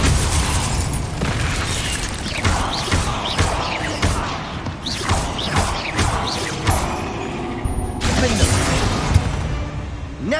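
Blasting spell in the Hogwarts Legacy video game setting off a run of loud booms and crashing bursts amid the game's din and brief voices.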